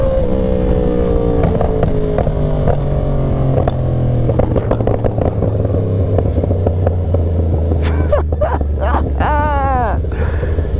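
Ducati Panigale V4 SP2 sportbike engine revving loudly up close, a sustained roar with rising and falling revs and crackling bursts near the end.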